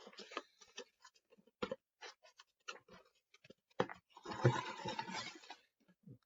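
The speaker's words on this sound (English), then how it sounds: "I really should get an X-Acto knife for this rather than battling with the scissors." Scissors snipping open Lego BrickHeadz set packaging, quiet close-up cuts, clicks and crinkly plastic or cardboard rustling in short irregular bursts, with a longer rustle near the end.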